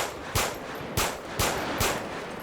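Four sharp gunshot impacts strike the player in GTA 5 during a police patrol mod, evenly spaced about half a second apart, loud and close over a steady low background hum.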